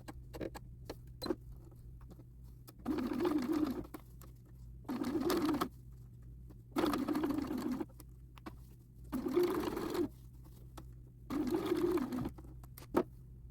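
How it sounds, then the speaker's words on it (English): A sewing machine stitches the waistband of a short circle skirt close to the fold line. Five short, evenly spaced bursts of rapid stitching are separated by quiet pauses and faint clicks, heard close up without speech. "I am going to now start stitching very close to that fold line."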